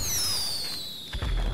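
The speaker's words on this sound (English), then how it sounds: "let's shoot off our firework launchers while we're waiting" Firework launcher fireworks in GTA 5 whistle downward in a long falling streak, then burst into loud pops and crackles near the end.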